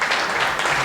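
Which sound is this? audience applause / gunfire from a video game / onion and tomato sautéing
audience applause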